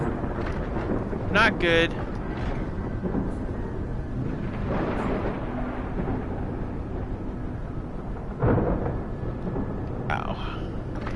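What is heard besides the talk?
radiation thunderstorm in a video game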